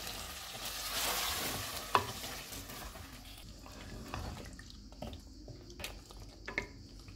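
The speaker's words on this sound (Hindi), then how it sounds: "इसमें फेंटा हुआ दही डालेंगे, इसको मिक्स करेंगे।" Whisked yogurt being stirred into chicken that has been fried in a handi over a lowered flame, for chicken biryani: a steady, low sizzle with continuous scraping stir strokes and a single sharper clink, no voices.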